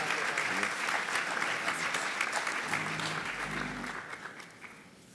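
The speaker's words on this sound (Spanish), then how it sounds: "Pues le damos nuevamente un fuerte aplauso." Audience applause fills the hall after a talk at a 2016 theological colloquium, a dense, steady clatter of many hands that gradually thins and fades toward the end.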